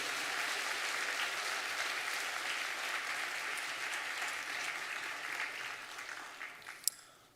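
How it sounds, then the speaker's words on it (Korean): Congregation applauding after an infant baptism during a Sunday service at a Presbyterian church, a steady, fairly distant wash of many clapping hands that fades out near the end with one sharp click. "우리 박수하겠습니다."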